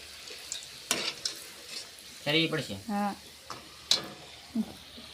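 Dhebara fry in hot groundnut oil with a soft, low sizzle, punctuated by a few sharp stirring and utensil clicks, while a person speaks briefly nearby.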